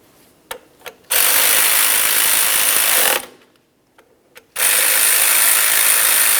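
A ratchet tightens 10mm bolts on a Honda Accord front knuckle, with a few quick clicks and then two long, loud, continuous bursts of rapid mechanical ratcheting separated by a short pause.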